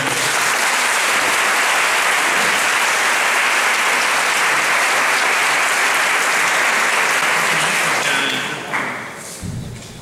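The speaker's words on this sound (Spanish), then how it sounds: "Un aplauso para Jean-Jacques" A symposium audience applauds Jean-Jacques Breluzeau in a loud, sustained wash of clapping that holds steady before thinning out near the end, with a few thumps as it fades.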